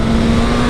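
A new motorcycle's engine revs hard as the rider accelerates, a loud, close, steady drone with a strong low hum and rough mechanical texture and no talk over it.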